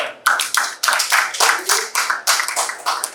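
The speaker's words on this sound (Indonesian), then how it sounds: "Tepuk tangan buat Brenda." A classroom group claps together in a sustained burst of applause, steady and fairly loud, with brief pauses and renewed bursts of clapping.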